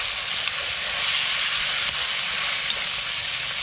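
Bacon fries in a Dutch oven over an open fire, a loud, steady sizzle and crackle of grease with occasional small pops.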